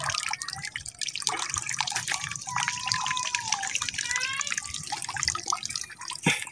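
Water is scooped out of a dirty platy fish aquarium, with drips, trickles and splashes close by in an irregular pattern over a steady low background.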